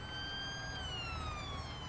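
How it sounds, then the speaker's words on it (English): A police car siren in the Farming Simulator 19 video game wails steadily throughout, its pitch gliding slowly downward as it passes along a dual carriageway, sounding moderately close over a low traffic rumble. "There is a police car."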